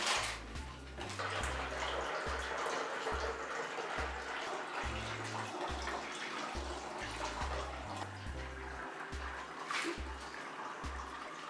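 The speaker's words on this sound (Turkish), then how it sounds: "Bir, bir buçuk litre kadar su ekleyeceğim." About one to one and a half litres of water pours steadily into a container for homemade lemonade, a continuous soft rushing heard beneath a rhythmic musical beat.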